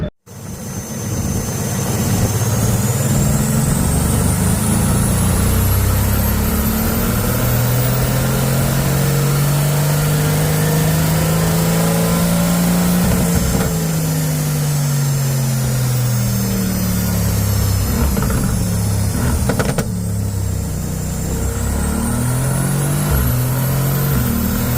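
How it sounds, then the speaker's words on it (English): Mercedes-AMG GT R on its stock exhaust, revving on a dyno with rising and falling engine tones that climb, hold and drop back, loud and close, alongside a high whine. "This is stock exhaust, so just you guys wait."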